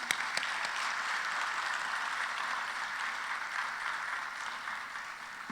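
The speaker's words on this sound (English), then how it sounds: "Perhaps we could have another round of applause." Steady, sustained applause from an audience at a cybersecurity challenge award ceremony, many hands clapping continuously with no break, fairly even in loudness throughout.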